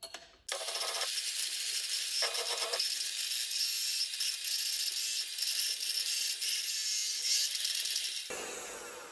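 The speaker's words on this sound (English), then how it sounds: "Okay, now it's time for the yolks and the sugar. So I'll mix them again like this." Egg yolks and sugar for tiramisu are beaten together with a loud, continuous mixer whir that starts abruptly, runs steadily for about eight seconds with slight wavering, then cuts off.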